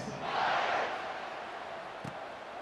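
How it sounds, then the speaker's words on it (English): A stadium crowd cheers in the video game College Football 26 during a Texas kickoff. A broad roar swells at the start, then settles into a steady, distant crowd murmur with a brief thump near the end. "this crowd is feeling themselves after that last drive"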